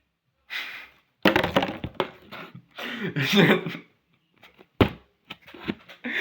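A plastic Cristaline water bottle is handled up close, giving irregular crackling crinkles and sharp crunches separated by brief pauses.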